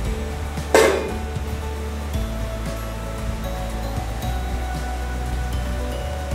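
Rain falling outside a home during a pomade-making session, a steady broadband wash with a low rumble, plus one brief louder splash or knock near the start.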